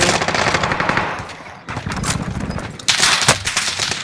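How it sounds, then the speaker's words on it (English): Sustained automatic weapon fire in a battle royale game, loud and dense, with rapid overlapping shots and a brief lull before another heavy volley. "I'm under fire!"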